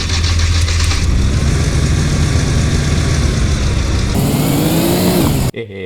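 A video game car engine revving hard, a loud continuous roar that shifts pitch as it climbs and settles, then cuts off abruptly near the end.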